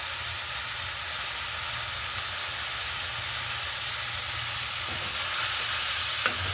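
Vegetables softening in oil and their own water in a pan, a dense continuous sizzling hiss that holds steady and rises slightly near the end with a small clink, alone with no voice.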